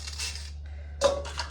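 Ice cubes clink and crunch as they are handled, two short bright bursts separated by a pause, close and fairly quiet over a low steady hum.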